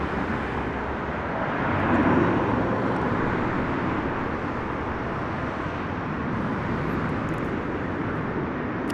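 Jet airliner arriving at Toronto Pearson airport, a broad distant roar that swells slightly and then holds steady, mixed with wind and ambient outdoor noise, with no voices.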